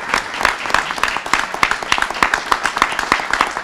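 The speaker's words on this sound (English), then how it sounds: "y'all need to give him a round of applause" Applause from an audience at a governor's bill signing supporting veterans, a dense burst of many hands clapping, loud and steady throughout with no talk over it.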